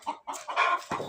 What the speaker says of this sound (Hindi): एक दूसरी मुर्गी चीनी, ये इतनी आउट क्लास मुर्गी है